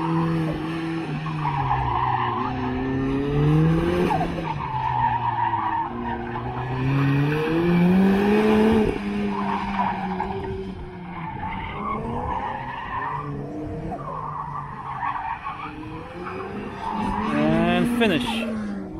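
Tires squeal repeatedly as a Mazda Miata runs an autocross course, long rising and falling screeches through turns mixed with engine noise, at moderate distance, with people talking over it.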